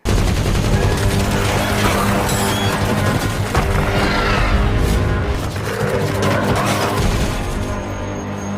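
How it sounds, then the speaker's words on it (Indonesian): Loud, dense bursts of rapid machine gun fire rattle on continuously, layered with booms and crashes in a chaotic battle din. "memberikan bantuan dengan melepaskan tembakan menggunakan senjata mesin"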